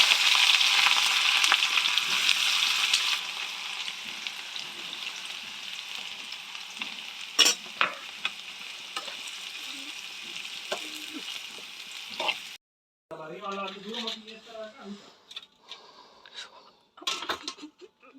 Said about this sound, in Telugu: ఇప్పుడు వీటిని కూడా డీప్ ఫ్రై చేయాలి